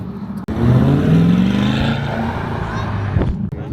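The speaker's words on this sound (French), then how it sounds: "Corvette" A Corvette engine revs close by at a car meet, a loud rising and falling roar with a brief gap between bursts, other voices faint in the background.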